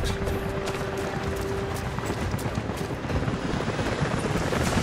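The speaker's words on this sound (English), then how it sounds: "helicopters are headed your way." A helicopter in Rise of the Tomb Raider, a steady rotor thrum and engine drone that holds evenly at moderate distance with no voices over it.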